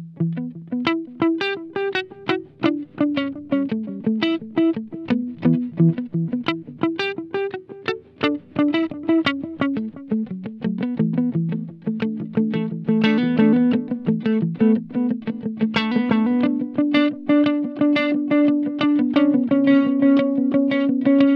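An electric guitar through a Laney Mini amp plays a run of distorted notes, each picked note trailing off in repeating delay echoes.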